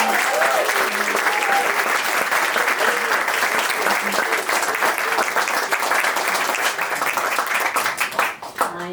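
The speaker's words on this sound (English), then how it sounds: "please give them a huge round of applause" Wedding ceremony guests applaud the couple in a loud, sustained burst of dense clapping that holds steady for several seconds, with some voices mixed in, before tapering off near the end.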